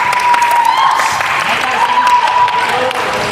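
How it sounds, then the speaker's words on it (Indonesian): Students in a physical education class clap their hands in praise, a brisk group applause heard over a noisy space with voices talking through it. "tepuk tangan."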